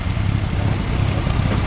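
A classic car's engine running steadily at a car show, a low continuous rumbling idle, close and fairly loud with no voices over it.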